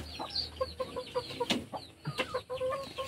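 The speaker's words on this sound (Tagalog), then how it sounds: "Tapos ito naman yung bantam na ano, tandang." A bantam rooster clucks and calls in short, separate bursts, close and moderately loud, with other fowl sounds around it in a quiet farmyard setting.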